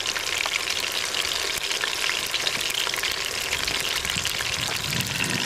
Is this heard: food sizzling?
yes